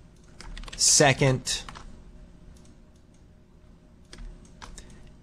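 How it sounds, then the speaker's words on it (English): Typing on a computer keyboard while entering text in After Effects: a quick, close flurry of key clicks, then a few faint scattered taps, with a voice speaking briefly. "So I'm just going to type first and"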